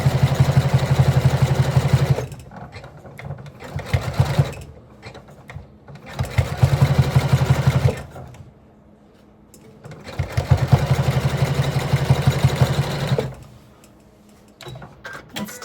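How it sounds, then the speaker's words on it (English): Sewing machine stitching a quilt in a quilt-as-you-go project: steady, fast mechanical whirring in three long runs of a few seconds each, with quieter pauses between, close and loud. "now I'm gonna just sew all the way down."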